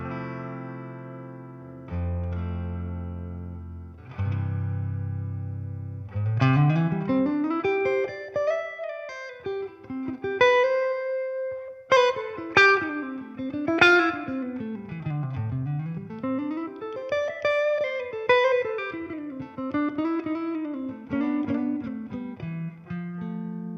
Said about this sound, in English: So that's just the TONEX delivering the Deluxe reverb sound.